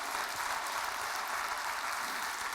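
Audience applause at a talk on reclaiming the movement around overdose prevention centres, a steady dense wash of clapping heard alone throughout.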